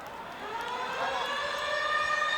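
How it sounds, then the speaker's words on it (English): A long, rising siren wails steadily across a rugby league ground during a Parramatta Eels versus Sydney Roosters match, carried on crowd hubbub and growing slightly louder. "So the siren in the background."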